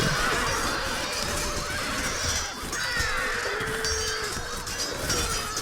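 Light cavalry horses in the Shogun Total War video game whinny and neigh over a dense, continuous battlefield din, several calls overlapping throughout.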